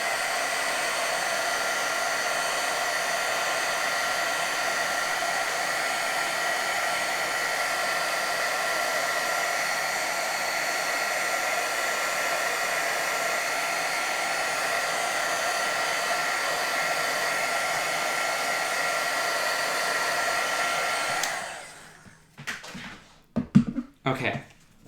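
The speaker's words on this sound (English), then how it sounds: "So we're gonna heat set this up." A heat tool blows in a steady, even whir while drying embossing powder on a card, then cuts off near the end, followed by brief handling noises.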